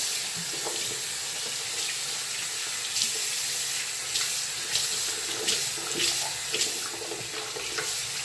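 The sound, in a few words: tap water running, rinsing face at sink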